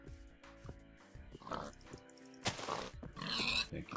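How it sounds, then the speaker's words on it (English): A pig grunts and oinks in a blocky sandbox video game, a few short, fairly quiet snorts scattered among game sound effects and background music. "Thank you, pig."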